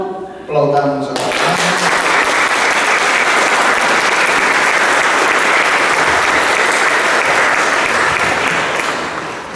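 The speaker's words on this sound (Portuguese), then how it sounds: "Aplaudamos a palavra." A congregation at a Catholic Mass of Azorean-rooted culture in Mirim, Imbituba, breaks into loud, sustained applause that swells and holds steady throughout, following brief talk at the start.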